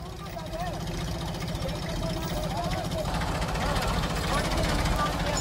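Two tractors, a Mahindra 265 DI and a Massey Ferguson 35, in a tug-of-war with their diesel engines chugging steadily and close by, a constant low throb under people talking.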